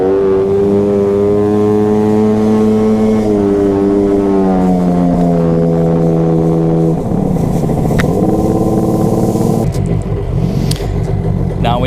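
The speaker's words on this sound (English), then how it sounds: "So I'm just gonna show you the throttle response you should kind of expect." Sea-Doo XPL 951 two-stroke engine fitted with Mikuni Super BN 46i carbs, freshly re-jetted, idling loud and close, then revving up and down in repeated throttle blips with shifting tones.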